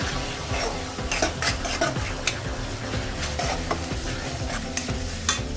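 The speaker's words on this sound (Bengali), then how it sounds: "আবারও আমি খুব ভালো করে কষবো, আর সামান্য একটু জল দিয়ে দিয়ে কষতে হয়, না হলে মশলা ধরে যায়।" Masala with tomato and onion is stir-fried in a kadai, loud rhythmic scraping and stirring strokes over a constant sizzle, with occasional clinks of the spatula against the pan.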